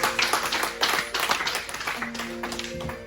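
A church congregation applauds during a French-language sermon: dense, continuous clapping from many hands filling the space for about three seconds, steady and fairly loud, with faint sustained tones underneath.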